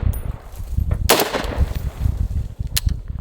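Two loud, sharp rifle shots from a budget AR10 at an outdoor range, about two seconds apart, the first a fuller blast and the second a quicker crack, over steady wind and background noise.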